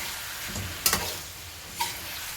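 Creamy buttered shrimp sizzles steadily in a pan, with two sharp scraping stirs around one second and near the end, close and moderately loud over continuous frying hiss.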